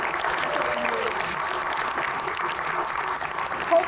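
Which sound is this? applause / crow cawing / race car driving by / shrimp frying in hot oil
applause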